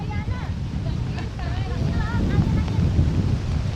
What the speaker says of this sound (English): the wind's very strong